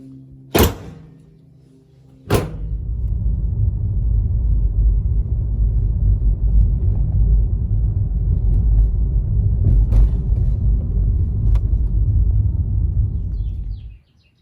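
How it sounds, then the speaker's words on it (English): A 2014 Nissan LEAF on a test drive gives a steady, low rolling rumble of road and cabin noise inside the car. A couple of sharp thunks come as the door shuts before it sets off. "all right, gonna take it on a test drive."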